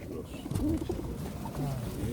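Pigeons brought from Hungary coo softly in a low, murmuring rumble at a pigeon market in Radom, several birds close by with faint voices in the background.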